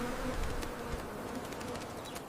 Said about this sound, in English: Busy bees from dawn till night, buzzing softly, what a sight.